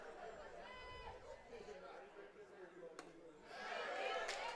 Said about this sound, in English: We're starting to get a pretty involved crowd.